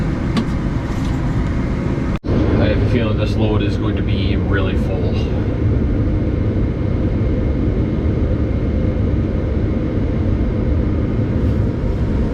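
Loud, constant mechanical roar of an FP240 forage harvester chopping corn silage, with a person talking over it.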